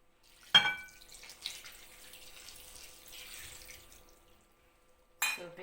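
Two cups of water pour into a mixing bowl for a cinnamon seeded nut bread dough, a soft steady trickle over a few seconds, framed by two brief clinks at the start and end.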